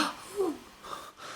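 A voice imitates a quiet gasp of admiration: a short, breathy intake with a soft rising vocal tone, close and faint.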